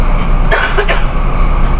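A couple of brief coughs sound close by over a constant low rumble of a moving vehicle.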